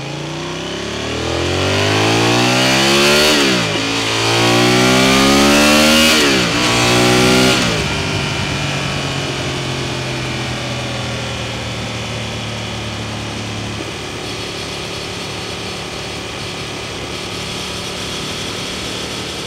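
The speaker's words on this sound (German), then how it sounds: "Gucken wir uns den Auspuff nochmal an. Sound ist auf jeden Fall in Ordnung." Motorcycle on a Transalp tour with a stock exhaust revving up in three loud, rising sweeps, each dropping back before the next, then settling into a steady, lower idle burble close to the exhaust for the remainder.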